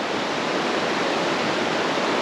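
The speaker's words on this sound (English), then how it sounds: "What a cracking river to canoe this must be." River water rushes steadily on a solo overnight camping trip, a loud, unbroken broadband roar like rapids with no other sounds standing out.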